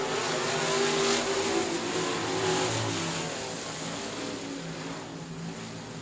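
Race cars at South Texas Speedway surge away on the green flag, producing a loud, dense roar of several engines that swells early and then eases slightly as the field pulls away.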